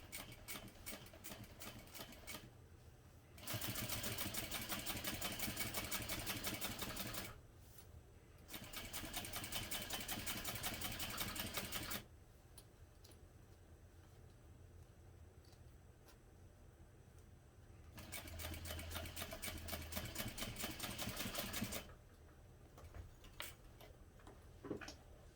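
A sewing machine top stitches through an accent stripe and seam allowance in three separate runs of fast, steady stitching. Quiet pauses fall between the runs, and the machine sounds close but fairly soft.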